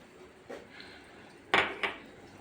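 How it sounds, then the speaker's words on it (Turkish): Tea glasses set down in a home kitchen: three light clinks, one soft and two sharper in quick succession near the end, close by in a quiet room. "İkinci bardağı da koyalım."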